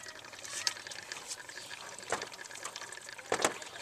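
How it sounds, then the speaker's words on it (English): Fuel pressure hissing and trickling out as the filter drain on a 2000 Ford 7.3 Powerstroke diesel is opened, a close liquid dribble with a few sharper spurts. "Now you're going to turn it clockwise, and that'll release the fuel pressure."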